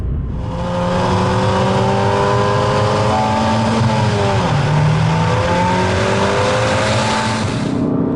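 A 2017 Ford Focus RS with a turbocharged engine accelerating hard along a slippery twisty B road, a loud, steady engine roar climbing in pitch through the gears with no talk.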